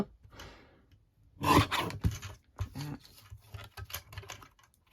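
A small paper guillotine trimmer cuts card stock for stamping and embossing crafts, giving a few quick, close scraping slides and sharp clicks with quiet pauses between them.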